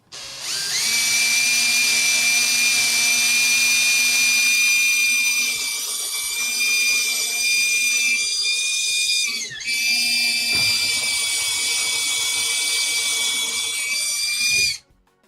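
A power drill whines steadily while pre-drilling holes on either side of a corner in wood for a miter saw station, running loud and close for about nine seconds, pausing briefly, then boring again until it stops.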